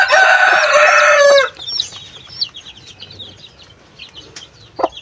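A mother hen with newly hatched chicks opens with loud close clucking and crowing-like calls, then gives way to quiet, faint peeps and scattered soft chirps.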